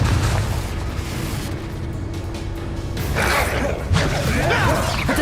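In Hogwarts Legacy, the Confringo fire spell bursts with a loud boom and crashing blast, a second impact following about a second later, over a busy rush of combat noise with some voices mixed in.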